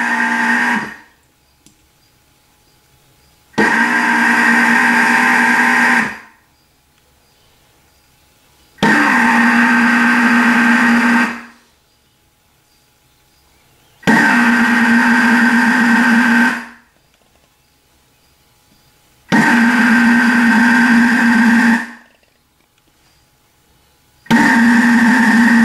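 A Thermomix sitting on a silicone sheet churns dough in loud repeated bursts of motor whir, each lasting a few seconds and separated by short silent pauses, with no talking.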